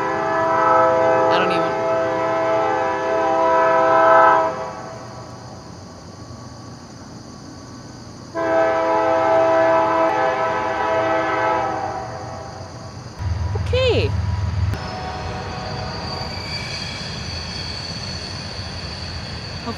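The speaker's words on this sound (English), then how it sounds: "A train." A passing train sounds its horn in long, loud harmonic blasts, several separated by pauses, with rumbling wheels and a squeal from the rails. A voice speaks faintly at moments in the background.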